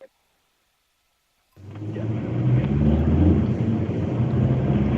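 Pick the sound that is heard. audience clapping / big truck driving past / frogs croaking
big truck driving past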